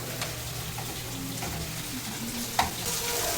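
A pan sizzles and fries steadily while an afternoon snack is cooked in a home kitchen, with stirring scrapes and a brief clink of utensils, close and fairly loud with no talking.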